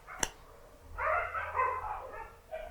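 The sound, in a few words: dogs barking and fighting outside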